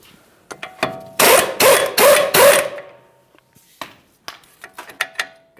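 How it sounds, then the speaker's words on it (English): A wrench on an 18mm nut of a front sway bar link on a 2013-2020 Ford Fusion: a run of four loud ratcheting bursts, then scattered sharp metallic clicks and taps close by, with no talking. "I'm going to break the nut free"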